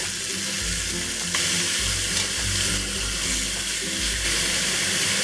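Flipped beef sears in a hot pan for Taiwanese beef noodle soup, a loud, continuous sizzle that holds steady throughout, close and unaccompanied by speech.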